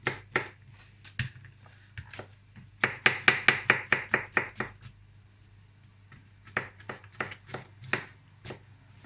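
Rapid knife chopping of vegetables on a cutting board, bursts of sharp close taps in quick runs with short pauses between, no talking.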